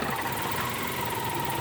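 A Nissan Almera with a QG15 engine suffering low fuel pressure, idling steadily with a continuous mid-pitched rumble and hum, close and even throughout, with no voices.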